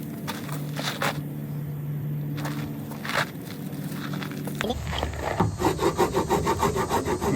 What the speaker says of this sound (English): I'm going to scrape off some of that cotton that's stuck to it.